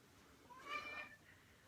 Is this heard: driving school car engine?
no